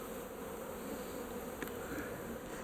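Honey bees buzzing steadily throughout during a hive removal in the bush, a dense, continuous drone heard up close with no talk.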